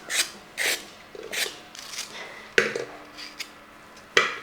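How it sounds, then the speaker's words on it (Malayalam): Skin is scraped off a raw green plantain in a kitchen, a series of short rasping strokes in an irregular rhythm, close and fairly quiet, with no talk. "ഞാൻ ഈ പച്ചക്കായുടെ ഈ തൊലി ഇങ്ങനെ ചിരണ്ടി കളയുന്നതുള്ളൂ"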